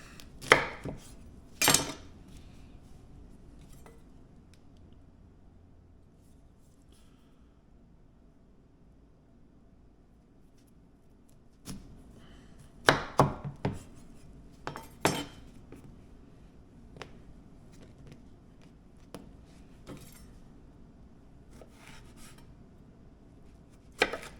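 A knife chopping lemon slices in half on a cutting board, a few sharp, close knocks in short clusters separated by long quiet gaps, with no talk.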